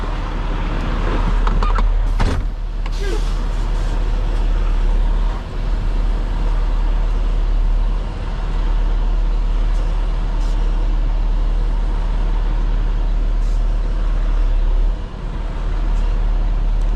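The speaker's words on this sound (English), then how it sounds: "pull the truck up" A truck engine idles and rumbles steadily nearby at a ditch work site, with a low continuous drone and brief shifts as the truck creeps forward.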